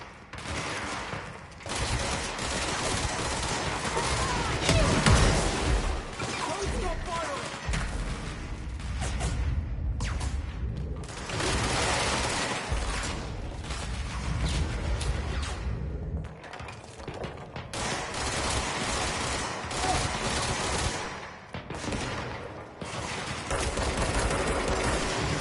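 Continuous heavy gunfire from the Service Weapon in Control, with dense rapid shots, thuds and booms of combat running nearly unbroken throughout, loud and close.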